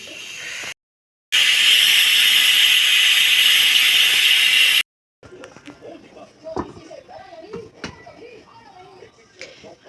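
A pressure cooker cooking pork or potatoes lets off a loud, steady jet of hissing steam for a few seconds. A person then talks over quieter kitchen sounds.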